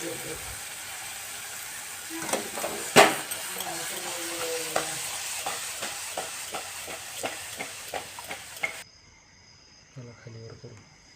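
Cauliflower sabzi sautéing in a pan, a continuous sizzle under regular scraping and stirring strokes of a spoon, with a sharp clink early on, before the frying noise drops away near the end.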